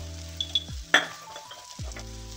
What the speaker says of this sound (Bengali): দিয়ে এটাকে আমি এবার ভালো করে নেড়ে নেব